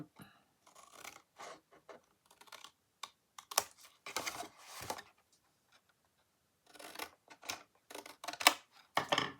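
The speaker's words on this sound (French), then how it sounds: "Bon, il faut en couper un tout petit peu sur les bords, là." Scissors trimming the edges of a handmade cardboard gift display box, heard as close, crisp snipping and paper scratching in short irregular bursts with pauses, no talking.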